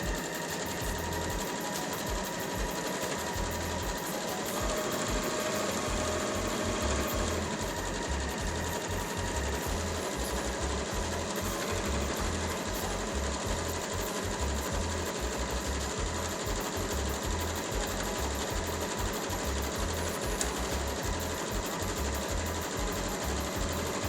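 Sewing machine stitching straight around fabric for a bouffant hat, a steady fast mechanical whirring and clacking that runs continuously and close, with no talk.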